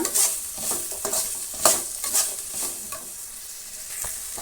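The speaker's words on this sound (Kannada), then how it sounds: "ಬೆಂಡೆಕಾಯಿ ಚೆನ್ನಾಗಿ ಫ್ರೈ ಆಗಬೇಕು" A quarter kilo of okra (ladies finger) fries in a pan with a soft, steady sizzle. A spoon stirs it with repeated scraping strokes and light clinks close by. No one speaks.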